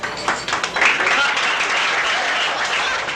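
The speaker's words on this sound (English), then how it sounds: "Marty, you want these people to applaud?" Audience applause at the theatrical ending of the film Alice Doesn't Live Here Anymore: a dense, sustained wash of clapping that swells after a second and holds steady to the end, with voices mixed in.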